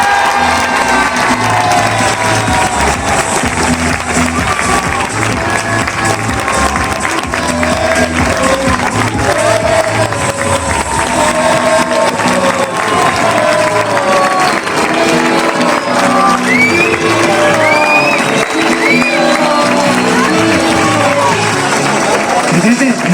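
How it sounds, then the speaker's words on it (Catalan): Loud crowd in the stands at an athletics club presentation, with sustained applause and cheering that fills the whole stretch, plus shouts and whistles rising over the clapping. "Demanarem d'entre tots els que han participat aquests anys un fortíssim aplaudiment pel Vicente i pel"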